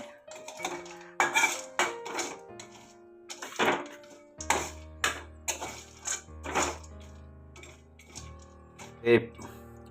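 A utensil scrapes and clinks against a pan while catfish bait is stirred, giving irregular metallic knocks and rattles up close. A low steady hum runs underneath, and a voice speaks faintly at times.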